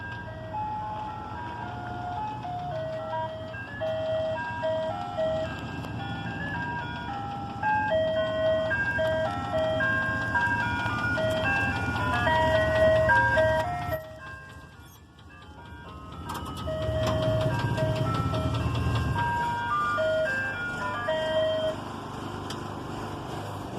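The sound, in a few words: green truck approaching, getting louder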